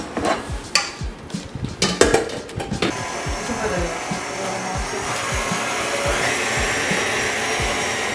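An electric mixer whirs through guava cream cheese filling in a kitchen, a steady motor hum with the paddle clattering against the bowl, irregular clicks and thumps early on giving way to smoother churning.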